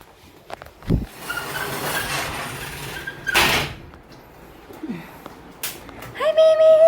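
A door being shut, with a couple of bumps and a sliding rattle among footsteps and rustling, followed by a high tonal squeal near the end, with a person speaking in the background.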